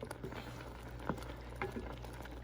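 Pot of blueberry preserves made from blueberries, water, sugar and lemon juice, bubbling and simmering steadily on a stove, with a low continuous patter and a couple of brief louder stirring knocks.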